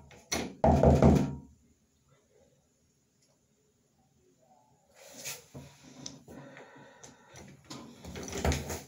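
Loud knocking on a door with a few sharp thumps at the start, then shuffling handling noises and a final burst of knocks near the end, with a long quiet stretch in between.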